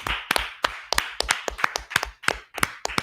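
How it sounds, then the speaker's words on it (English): A small group clapping for a class in an indoor gathering: a dozen or so sharp, close, irregular hand claps over about three seconds. "Clap it up for the class."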